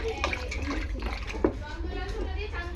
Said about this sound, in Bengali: আর দেখো আলুটাও ধুয়ে নিচ্ছি